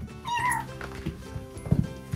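A child imitating a cat, a drawn-out whiny meow followed by a couple of short lower mewing sounds, close and clear with no other talk.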